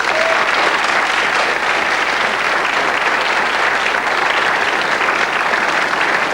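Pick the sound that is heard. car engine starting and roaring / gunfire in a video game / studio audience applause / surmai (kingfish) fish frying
studio audience applause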